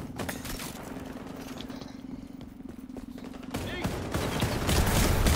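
Gunfire in the shooter game XDefiant: rapid, continuous bursts of shots rattle on for several seconds, growing louder and denser toward the end, with voices talking over the action.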